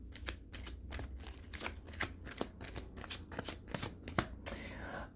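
Tarot cards are shuffled in quick, crisp riffles, a rapid patter of papery clicks running continuously.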